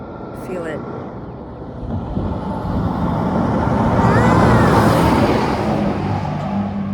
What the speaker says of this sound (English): you can feel the whole bridge vibrate, even a ways after the car has crossed